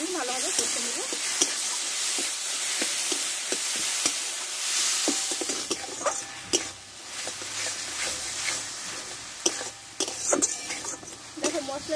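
Turmeric powder, Kashmiri chili and salt sautéed in a pan, with steady sizzling and frying under repeated scraping stirs of a spoon, close and fairly loud throughout.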